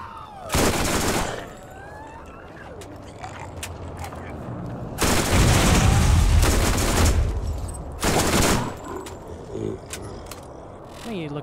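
Bursts of automatic gunfire from the Borderlands shooter game, three loud sustained volleys separated by quieter stretches of game ambience and small mechanical clicks.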